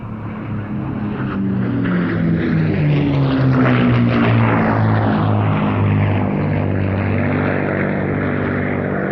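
P-51 Mustang fighters powered by Packard-built Rolls-Royce Merlin engines at the Duxford airshow, a loud sustained piston-engine drone whose pitch swells and shifts as the aircraft pass close by, heard alone without talk.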